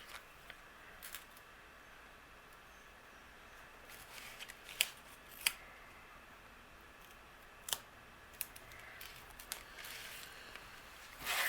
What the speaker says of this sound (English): I'm going to trim a piece of that extra foam